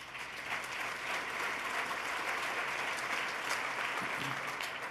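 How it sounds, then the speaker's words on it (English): Applause from the audience at a State of the State address fills the hall: steady, dense clapping at moderate distance, even and sustained throughout with no talk over it. "you should applaud for that"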